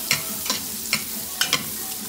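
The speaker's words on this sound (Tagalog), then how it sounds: "Kaya gigisa natin yan." Celery and carrots sautéed in a pan for chicken noodles, heard as a low sizzle broken by several distinct stirring scrapes spaced irregularly, close and fairly quiet.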